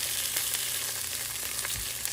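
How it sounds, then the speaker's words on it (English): A barramundi fillet sizzles skin side down in a hot pan, giving a steady, close crackling hiss with small pops and no talking. "If you don't hear that sizzle, your pan's not hot enough"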